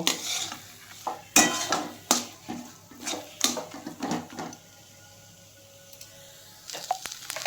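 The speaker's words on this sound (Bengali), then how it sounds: "আমি আর মোটামুটি তিন চার মিনিট এটা ভেজে নেব" Banana flower with green chillies is stir-fried in a wok, with repeated scraping and clinking of the spatula against the pan over a soft sizzle, then a quieter pause before a few more strokes.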